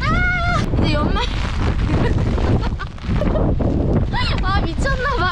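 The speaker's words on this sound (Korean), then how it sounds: "아 미쳤나 바람" Strong wind roars across the microphone at Sokcho beach, a loud, continuous buffeting rush that dips briefly midway, with a voice faintly audible through it.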